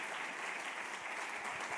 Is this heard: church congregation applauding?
yes